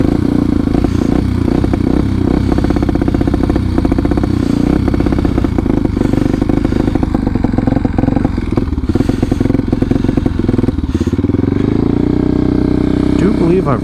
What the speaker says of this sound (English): It's got every symptoms of a bike that's run out of gas.